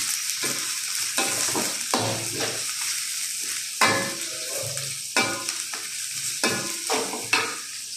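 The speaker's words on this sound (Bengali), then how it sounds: "এবার গরম তেলের ভিতরে ভালো করে ভেজে নিব" Spices and other ingredients fry in hot oil for a chicken and potato curry, a constant bright sizzle with repeated scraping and stirring strokes of a spatula against the pan, close and fairly loud.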